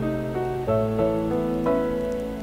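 Rain falls steadily in the video game Amayui: Castle Meister, a soft continuous patter sitting beneath louder melodic background music for the whole stretch.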